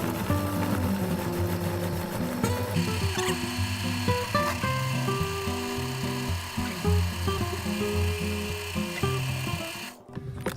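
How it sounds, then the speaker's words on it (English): A blender runs on low, whipping chilled cream with a steady, whining motor hum and shifting pitch for about ten seconds, then cuts off briefly near the end. "we want to blend this on low for about a minute or until it gets nice and thick"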